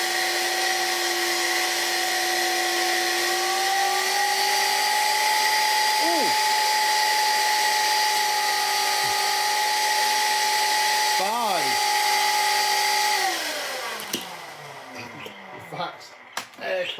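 A Vax Air Cordless vacuum cleaner on an old unit being serviced runs on test with a loud, steady motor whine for about thirteen seconds, dips briefly in pitch twice, then cuts off and leaves scattered handling clatter.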